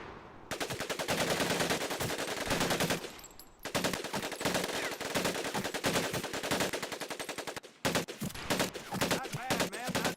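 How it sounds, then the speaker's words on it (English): An automatic weapon fires in long rapid bursts in Medal of Honor: Pacific Assault, loud continuous chattering gunfire broken by two brief pauses. "Take your time to aim and fire the weapon in short bursts only."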